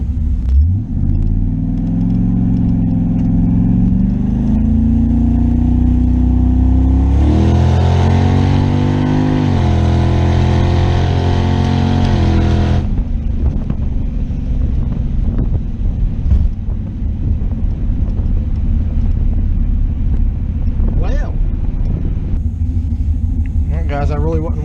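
A car with a Holley EFI engine pulling away and accelerating, its deep engine rumble rising in pitch through the gears, then settling into a steady cruise with wind noise, loud and close throughout.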